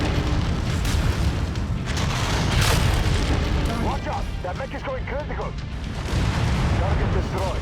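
Heavy booming blasts of a mech exploding in MechWarrior 5: Mercenaries, with a continuous loud rumble of battle filling the whole stretch and brief pitched game tones partway through.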